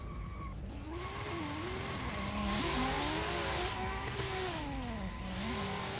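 Drift cars, a BMW and a Nissan 180SX, racing at a drift competition, engines revving and wailing with pitch swings over continuous tire squeal, loud and sustained.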